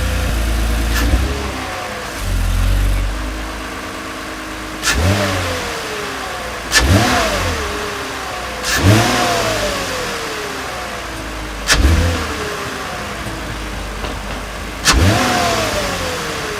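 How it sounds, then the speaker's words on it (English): A 2020 Toyota Camry engine with its stock intake system, in sport mode, revs up repeatedly, with about six sharp throttle blips rising and falling over a steady idle, loud and close, with no talk. "So you can hear a little bit of induction noise when it sucks in from that inlet there."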